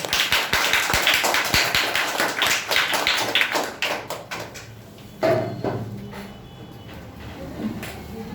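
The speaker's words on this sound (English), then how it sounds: "Guys, clap for her once again." Hand clapping from a public speaking competition audience starts dense and loud for about four seconds, then thins into scattered claps and fades out, followed by a brief thump and quieter room noise.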